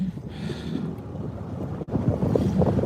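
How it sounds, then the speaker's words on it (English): Wind gusting across a lake during a bass-fishing outing, a steady broadband rush with microphone buffeting that swells and dips over a few seconds, loud and close, with no talking. "the wind is starting to pick up again now"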